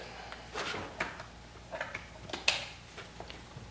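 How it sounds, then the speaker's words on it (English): A compartment door on a ThunderBolt X2 unit snaps into place with a few light plastic clicks and taps, close and quiet, the sharpest click coming near the end. "slide the compartment door back onto the unit until it clicks into place"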